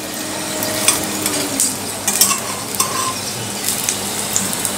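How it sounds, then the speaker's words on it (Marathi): A snack pancake roasts on both sides in a pan over a medium gas flame, giving a steady close sizzle and frying crackle with a few soft scrapes and light pan knocks, and no talking. "मीडियम गॅसवरती खरपूस असं दोन्ही बाजूनी हे भाजून घ्यायचं आहे"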